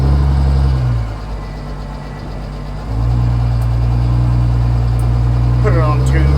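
A Cummins-swapped 1963 Chevy C60 truck with an automatic transmission gives a deep, loud diesel rumble that dips for a couple of seconds, then returns steady and close, with brief voices near the end.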